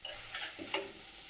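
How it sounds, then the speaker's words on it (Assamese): A simple vegetable bhaji without spices fries in a pan while it is stirred, giving a soft sizzle under a few quick scraping and stirring strokes, fairly quiet and close. "ইফালে এখন ভাজি বনাই"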